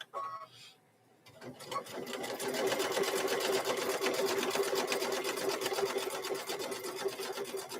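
A sewing machine runs steadily and close, stitching the raw seams of a fabric microwave bowl koozie in one long continuous burst after a brief pause at the start.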